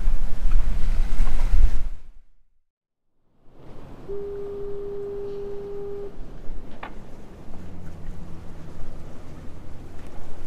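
A sailboat under engine power crosses the ocean bar off the Pacific coast near Newport, with loud wind and water rush that cuts out briefly, then a steady hum and a sustained horn-like tone.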